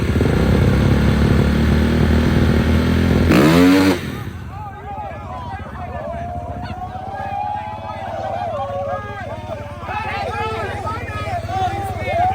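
Dirt bike engines roar loudly at close range during late-night street racing, one revving hard and then pulling away, followed by excited crowd voices and shouting over fainter engine noise.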